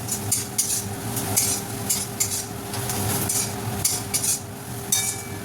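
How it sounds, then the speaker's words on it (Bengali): Ground spices stirred in a hot pan for dhaba-style dal fry: a continuous low sizzle with repeated scraping strokes of a spoon against metal, close and steady with no talking. "এবার এই মশলাগুলো দিয়েও একটু কিছুক্ষণ নাড়াচাড়া করতে হবে।"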